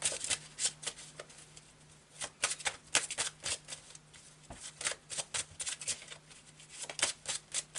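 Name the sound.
shuffling and drawing Marseille tarot cards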